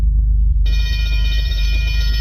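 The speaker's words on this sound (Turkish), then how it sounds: "Aynen öyle döndükçe zil çalıyor." A bell rings in the video game Hello Neighbor as something turns, starting partway in as a loud, steady multi-tone ringing over a continuous low rumble.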